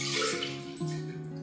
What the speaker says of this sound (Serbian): Prvo što stavljamo jednu meru mlijeka.